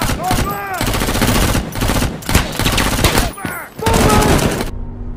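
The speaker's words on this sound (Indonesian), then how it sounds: "polisi sudah ada di lokasi dan baku tembak-tembak pun tak terhindarkan." Rapid gunfire crackles through a film shootout between police and bank robbers, with dense bursts of automatic weapons and single shots packed close together at high volume, brief gaps between volleys, and faint voices shouting under the shots.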